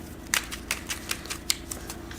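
Mini Visconti tarot cards being shuffled by hand, giving a quick run of soft, close riffling clicks and taps in an irregular rhythm, fairly quiet and with no talking.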